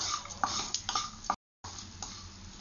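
Two cloves and two cardamom pods frying in a pan for an ivy gourd masala curry, stirred with a utensil: close, busy scraping and clattering against the pan, with a brief pause partway through.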